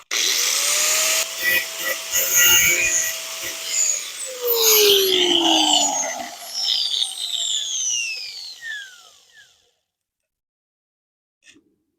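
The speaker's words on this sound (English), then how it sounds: "I'm gonna kind of grind out the center on these a little bit." Power grinder working into metal Coleman B200RSV minibike foot pegs, a loud harsh whine with sweeping pitch changes and scraping bursts that winds down to silence near the end.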